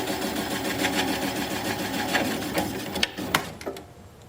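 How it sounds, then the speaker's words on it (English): A gouge cuts the bottom of a wooden bowl on a lathe spinning at about 400 RPM, giving a continuous rough, chattering scrape close by, with a few sharper knocks near the end as the cut chips. "So now I'm going to apply the bevel of the gouge against the bottom of the bowl."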